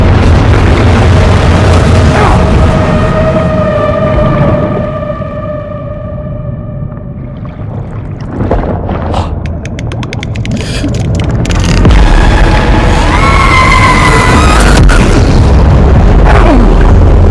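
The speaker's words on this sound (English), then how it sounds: "That was a bomb." A bomb goes off in the video game Dark Souls 2 with a loud, deep boom that swells and rumbles across the scene, layered with sustained tonal game sounds and scattered crackling bursts.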